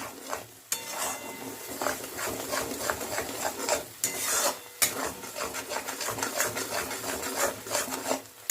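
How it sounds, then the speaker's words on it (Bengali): Spice paste for aloo dum being stir-fried in a pan over low to medium flame, a close, steady rasping scrape of the spatula in repeated strokes with soft sizzling underneath and no talk. "এবার মশলাটা কষে নেব।"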